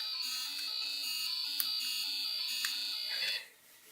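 A small buzzer alarm on a model museum, triggered by phototransistors in the floor, sounds as a continuous high electronic tone with faint pulsing beneath. It is quiet and steady, then cuts off near the end.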